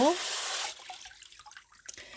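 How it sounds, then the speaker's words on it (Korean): Water sprays in a steady hiss over mushroom growing substrate, a close, continuous shower that cuts off after about half a second, followed by faint dripping and small handling noises. "표면 샤워를 한번 해주시고"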